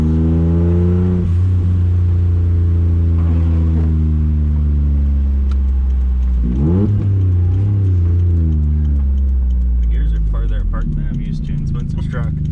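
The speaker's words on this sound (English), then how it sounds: "Yeah, that's a 6-speed. Yeah, and it's a diesel." A small diesel car with a six-speed manual gearbox idles and revs up and down loudly and close by, its engine note rising and falling, while people talk over it.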